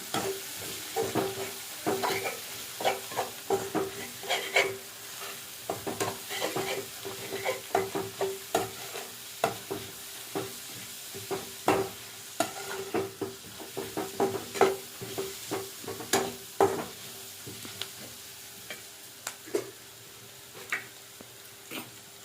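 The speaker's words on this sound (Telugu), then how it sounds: "బాగా మిక్స్ అయిపోవాలి ఇందులో" Maggi noodles and egg being stirred in a pan, with a steady run of scraping, clinking spatula strokes over a soft sizzle, close and continuous.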